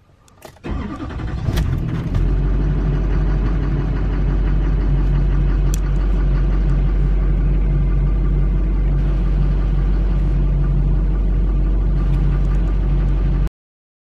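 A car engine cranks briefly and catches, then settles into a loud, steady low idle that runs on alone and close by until the end, during a fuel tank and fuel line repair.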